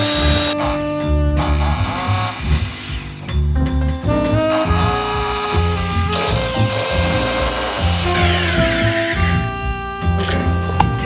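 A power drill whirs in several bursts while boring a screw hole, the motor pitch rising and falling as the trigger is squeezed and released, with short pauses and faint clicking between runs, loud and close.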